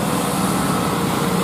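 A heavily loaded Hino truck labours up the steep Batununggul climb, its engine roaring loud and steady at high revs, close by and without talk.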